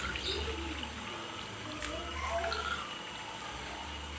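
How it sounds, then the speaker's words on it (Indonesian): Water trickles gently through a garden water feature among bonsai and ornamental plants, a soft, steady flow over a low background hum with no voices. "Aliran air mericik."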